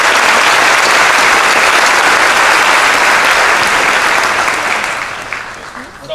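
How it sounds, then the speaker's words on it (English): A large audience at a high school commencement claps loudly and steadily, the applause sustained for several seconds before gradually tapering off. "Let's give them a round of applause."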